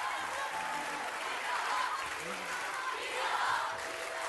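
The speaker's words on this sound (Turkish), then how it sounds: "Kocaman bir alkış alalım." Audience applause at a live televised anniversary concert, a steady wash of clapping with crowd noise and a few cheers, continuous for several seconds.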